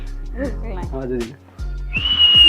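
A person's voice is followed by a short high whistle near the end, sustained and fairly clear under background noise, outdoors at Taljai Pathar, Pune.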